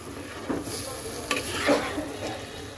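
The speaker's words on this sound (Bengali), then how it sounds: "কচুটা দেওয়ার পর মিক্সড করে দিলাম" Boiled taro greens cooking with jackfruit seeds and shrimp are stirred in a frying pan, a few short scraping strokes over a soft, close sizzle.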